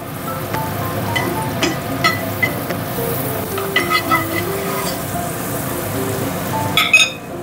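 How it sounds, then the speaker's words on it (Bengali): Butter sizzles steadily in a pan for shallow frying, a constant close crackle with small pops and a few clinks of a utensil stirring through it; no one speaks. "তা আমি একটু বাটার দিয়ে শ্যালো ফ্রাই করে নেবো।"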